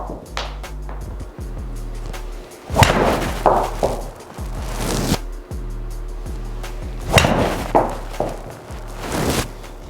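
Two Callaway golf drivers, a Mavrik and an Epic Flash, striking balls outdoors, each hit a sharp impact crack with a short ringing tail, a pair of strikes spaced several seconds apart over a steady low background hum.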